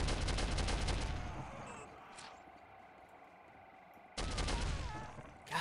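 Rapid gunfire plays in the Soldier of Fortune video game: two loud bursts of rattling shots, one at the start and one near the end, with a quieter stretch between them.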